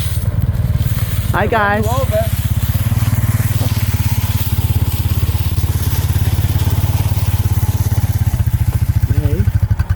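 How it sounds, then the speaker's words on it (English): A small four-wheeler ATV engine idles close by with a steady, loud, rapid putter throughout, while a voice briefly greets and speaks over it. "It's our little four-wheeler named Helga."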